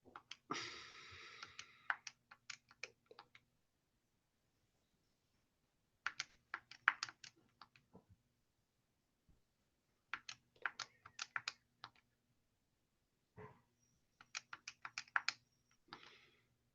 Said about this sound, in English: Just gonna have to type all that stuff in.